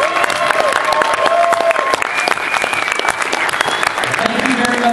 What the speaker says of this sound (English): Once again, a massive round of applause for all of our winners tonight.